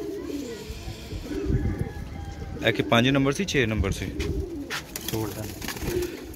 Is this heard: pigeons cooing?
yes